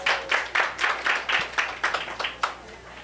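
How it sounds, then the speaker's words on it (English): A small audience at a VIP reception gives a round of applause: a handful of distinct claps in an even rhythm, close and crisp, tapering off near the end. "Let's give her a round of applause"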